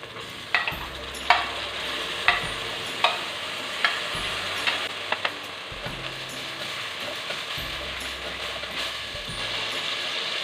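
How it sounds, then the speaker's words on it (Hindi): Chopped tomatoes hit hot masala in a pan for rajma curry and fry with a soft, constant sizzle, broken by a few scattered clicks and knocks of a spoon stirring, fairly quiet with no talk. "तीन मैंने टमाटर काटे थे, वो उनको भी मैं इसमें डालने लगी हूँ।"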